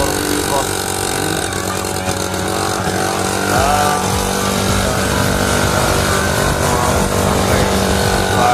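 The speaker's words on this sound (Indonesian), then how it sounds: "naik motor cross ini" A motocross motorcycle engine drones steadily while being ridden, a continuous buzzing roar that holds throughout, with voices talking over it.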